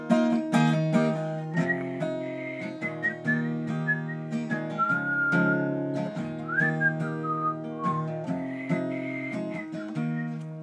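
A person whistles a melody of sustained, wavering notes over steady instrumental backing, clear and close throughout.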